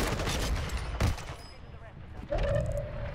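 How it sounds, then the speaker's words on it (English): Gunfire in the Warzone video game during a haunting event cracks in a few sharp bursts, with a brief tonal game effect near the end, close and fairly loud. "Who the fuck just shot me?"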